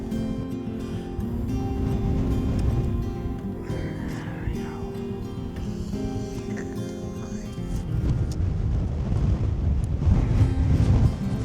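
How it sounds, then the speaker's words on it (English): Cold wind blows steadily across an open stretch of the Oklahoma and Texas panhandles, buffeting the microphone with a constant low roar that swells louder toward the end. "Was it worth standing in the cold wind for 45 minutes?"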